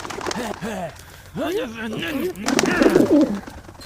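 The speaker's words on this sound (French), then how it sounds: "Pauvre pigeon." A pigeon coos in a series of soft, rolling calls at close range, with French-speaking voices talking over and between the coos.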